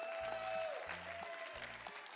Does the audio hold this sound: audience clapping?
yes